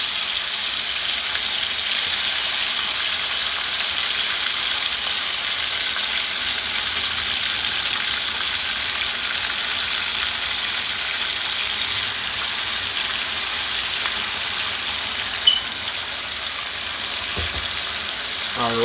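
Chicken liver frying in a pan, a loud, steady hiss of sizzling oil that holds evenly throughout, with a faint tap near the end.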